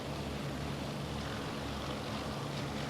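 Steady, loud drone of the 1930s Focke-Wulf 200 Condor's propeller engines in Microsoft Flight Simulator, a dense continuous hum and roar with no pauses.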